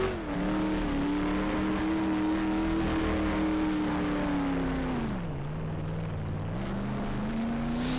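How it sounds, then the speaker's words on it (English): A red sports car in Garry's Mod runs at high revs in top gear, giving a loud, steady engine drone that dips in pitch briefly before settling, with no talking. "I'm in max gear, so it's gonna sound a bit like high revs."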